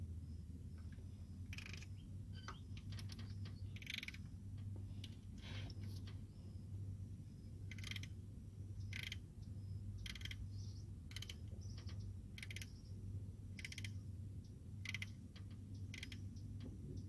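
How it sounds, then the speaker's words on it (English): A pulley puller tool works a crankshaft harmonic balancer off an engine, producing repeated metallic ratcheting clicks at an uneven pace over a low, steady background hum. "using the pulley tool for removing this crankshaft harmonic"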